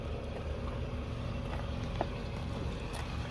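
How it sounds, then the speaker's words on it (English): Exhaust of a 2003 Toyota RAV4 L idling, a steady low rumble heard close up and continuous for a few seconds, with no talking. "Here's the exhaust. Very shaky."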